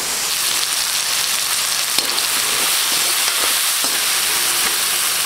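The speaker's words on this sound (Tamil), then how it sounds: "இப்போ கத்திரிக்காய் வந்து நல்லா வதங்கிட்டுங்க" Brinjal pieces fry in oil in a pan for a dry fish curry, a steady close hiss and sizzle with faint clicks of stirring, continuous and without voices.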